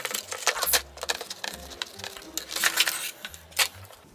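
The package of a ZETA ultralight clutch kit for a Yamaha Serow 250 being opened, with close plastic crinkling, rustling and small clicks and taps in irregular bursts, no speech.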